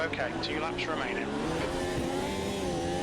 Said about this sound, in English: as I stamped on the throttle, that's my fault there with the tail wagging